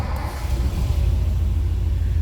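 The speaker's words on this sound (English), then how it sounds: "See how easily the car starts," A 1949 Lincoln Cosmopolitan Town Sedan engine fires with a push-button start and settles into a loud, steady, smooth low idle rumble close by, with no voices.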